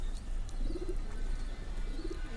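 Pigeons cooing outdoors, two soft rolling coos standing out faintly over a steady low background rumble, with no one talking.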